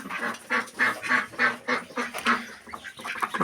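Ducks near newly hatched ducklings on a farm, with rapid nasal quacking and honking calls in short bursts, fairly close and moderately loud, a low murmur of voices and farm noise underneath.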